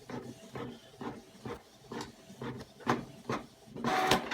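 A home printer feeding and printing thin sticker paper, with a steady series of rhythmic mechanical whirring passes and clunks building to a louder final feed, close up and with no voices.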